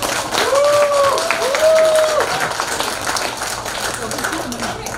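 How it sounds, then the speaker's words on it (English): A banquet audience at an anniversary celebration of a Chinese-American business association applauds loudly and continuously as people stand, a dense clapping wash with a brief whistle-like tone early on and a voice speaking over it. "Let's give them a great round of applause"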